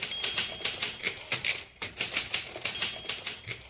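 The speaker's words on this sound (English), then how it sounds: "We would wake up to the sound of her typing at an astonishing speed on her Smith Corona typewriter." Fast typing on a Smith Corona typewriter, a dense, rapid patter of crisp key strikes with brief uneven pauses, close and clear with no voices.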